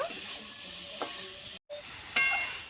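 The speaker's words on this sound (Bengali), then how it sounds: "ডুমুরটা দিয়ে আলুর সঙ্গে এরকম মশলার সঙ্গে 5 মিনিট মতো ভালো করে একটু কষিয়ে নেব।" Figs and potatoes sautéing with spices in a pan give a steady close sizzle. A few sharp stirring scrapes cut through, with a brief dropout partway.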